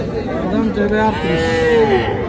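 A young calf at a busy cattle market after Eid moos loudly and close up in one long, drawn-out, wavering call, with faint market chatter in the background.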